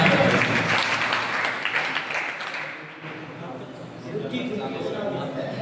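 An audience at a religious lecture gathering claps in a loud, dense burst of applause that fades a little partway through and then picks up again.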